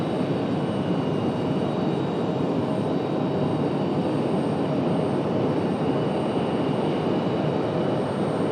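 Delta airliner departing Raleigh-Durham airport, a steady broadband jet roar holding at a constant loud level throughout with no talking.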